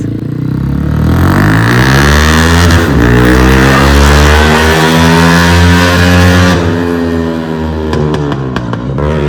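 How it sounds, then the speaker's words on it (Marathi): A vehicle engine revs loudly and close by, its pitch climbing and falling in rising sweeps of throaty roar, with clattering toward the end. "कसला क्रेझी आवाज आहे यार गाडीचा"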